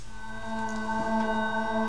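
A soft, sustained synth pad melody made in FL Studio, steady layered tones holding chords with a gentle, airy shimmer, played alone and fairly quiet.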